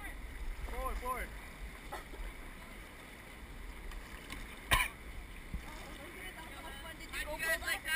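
A river raft pushes through churning rapids, with steady water rush and wind buffeting, occasional splashes and a sharp knock near the middle, while people shout and talk over the noise throughout.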